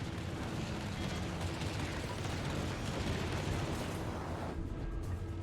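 Sustained, dense roar of naval gunfire and explosions as warships pound an airbase in World of Warships, a continuous loud rumble with no pauses across the whole stretch.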